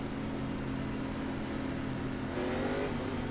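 A Gen 4 stock car at Darlington in iRacing holds a steady engine drone with a low harmonic hum, then revs up near the end as the throttle is pressed, loud and continuous with no talk.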